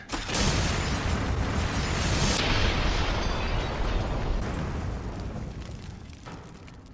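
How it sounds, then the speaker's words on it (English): A Firebomb Bottle bursts into flames in Resident Evil Revelations 2, a loud explosive whoosh followed by a sustained roaring crackle of fire that slowly fades over several seconds, heard alone without voices. "the Firebomb Bottle. A firebomb that engulfs the surrounding area in flames"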